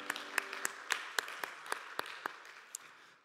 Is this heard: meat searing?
no